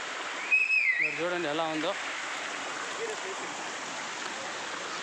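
Water falls from a height on a mountain trek, a constant, even roar of a waterfall close by; someone briefly speaks over it near the start.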